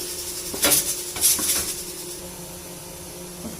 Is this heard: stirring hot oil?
yes